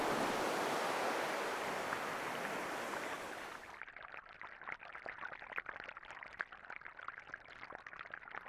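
Open-ocean waves off Hawaii, a loud broad wash of surf that drops into choppy, crackling water and spray noise, with no voices.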